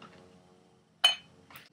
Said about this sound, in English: put the ice cubes in the mug.